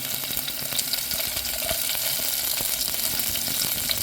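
Garlic, green chili and ginger sauté in hot ghee for a dal tadka, giving a steady close sizzle with faint stirring clicks throughout, no voices.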